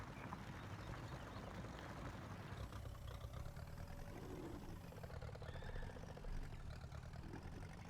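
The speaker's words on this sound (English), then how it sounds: "not exactly the quickest tractor in the world. It is very slow." Slow tractor engine running steadily in the farming game Farming Simulator 19, a faint, continuous low mechanical drone with rhythmic clatter throughout, heard alone without talk.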